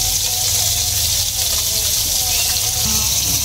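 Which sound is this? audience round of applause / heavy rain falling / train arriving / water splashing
water splashing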